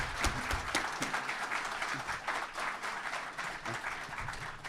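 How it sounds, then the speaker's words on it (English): An audience at a heated Christianity versus secular humanism debate breaks into applause, a busy rolling wash of claps with some shouts or cheers mixed in, moderately loud and sustained. "Give him a massive round of applause."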